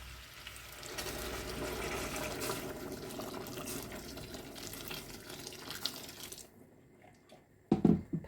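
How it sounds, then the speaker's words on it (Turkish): Water splashes steadily into a cooking pot of potatoes for about six seconds, a continuous close pour that stops abruptly, followed by a few louder clunks as the pot is handled. "patateslerimizi pişirecek kadar su ekledik"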